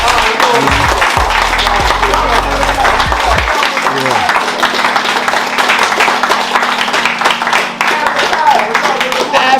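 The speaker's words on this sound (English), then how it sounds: "Round of applause for all the donors." A crowd applauds the donors at a gathering, with dense, steady clapping filling the whole stretch, loud and close, while voices carry on underneath.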